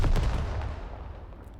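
Turret machine gun fire in the WWII tactics game Second Front: a loud, close burst of rapid shots at the start that rolls off into a fading rumble.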